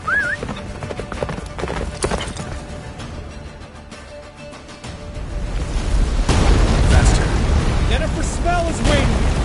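Roach, the horse in The Witcher game, gallops with rapid rhythmic hoofbeats, then a surge of louder rushing, rumbling noise from a snowstorm, with voices in the game.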